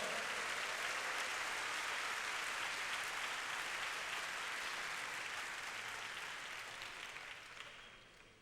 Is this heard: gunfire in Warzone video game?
no